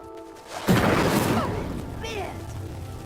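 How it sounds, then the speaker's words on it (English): In Hogwarts Legacy, a pyre lit by an Incendio spell erupts with a sudden whooshing burst of flame and then rumbles as it sinks, and a voice talks faintly under the grinding. "The flames make the pyre sink."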